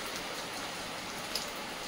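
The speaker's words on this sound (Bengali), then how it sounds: "প্রচন্ড বৃষ্টি বাইরে" Heavy rain pouring steadily outdoors, a dense, even hiss with no breaks and no voices.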